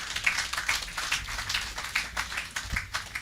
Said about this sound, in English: Give the Minister a rousing round of applause.